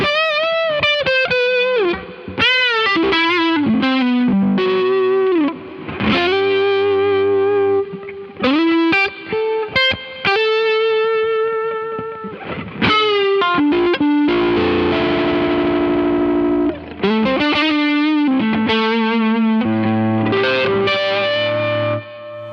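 An electric guitar played through a Mozztronics TD-1 Tube Driver pedal with reverb plays overdriven, sustained melodic lines and bent notes. A chorus-like shimmer rings over it, with brief gaps between phrases.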